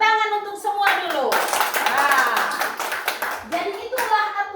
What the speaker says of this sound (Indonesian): Tepuk tangan untuk semua dulu.